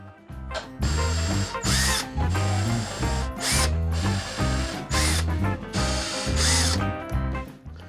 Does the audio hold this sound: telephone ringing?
no